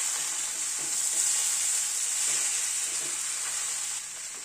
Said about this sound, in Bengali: মিশিয়ে দিলাম ঘি গরম মশলা দিয়ে।